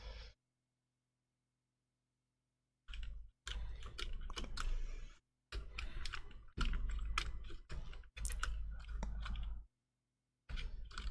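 Bursts of key clicking on a computer keyboard's function keys, used to control a Commodore 64 with an FPGASID setup, come up close after a silent pause, in fast irregular clusters separated by short gaps.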